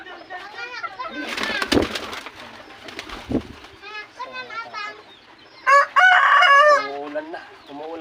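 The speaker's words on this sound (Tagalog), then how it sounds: "andyan na lahat ng mga manok ko" Chickens cluck and squawk near the microphone in a coop while a rooster crows loudly toward the end, with background talk and some sharp knocks.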